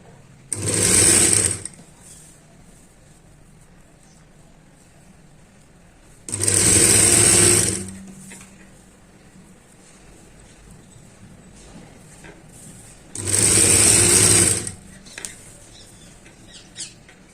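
A sewing machine stitches a katori-style blouse in three short, separate bursts of fast whirring, each lasting about a second, with quiet pauses between them.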